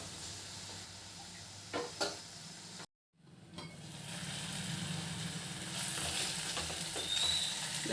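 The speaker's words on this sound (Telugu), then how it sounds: "ఇందులో కొంచెం సాల్ట్ వేసి ఇలా కలిపి కొంచెం ఫ్రై అవ్వాలి" A curry base with salt is fried and stirred in a pan with fenugreek leaves and green chillies nearby, giving a steady close sizzle and hiss broken by a brief cut, with occasional scrapes and knocks of the spoon.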